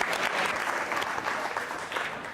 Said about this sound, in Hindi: तालियां जोरों से बजाइए